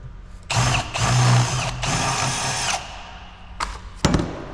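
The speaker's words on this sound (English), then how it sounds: "Once again, drill out the center." A power drill bores out the center of a sponge ball, used to clean out a boom, in two sustained bursts of loud whirring followed by a few brief, sharp revs near the end.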